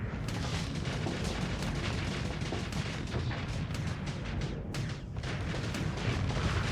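Ship weapons fire during space combat in Starsector, a loud, continuous barrage of rapid shots and booms layered over a constant roar, with no pauses.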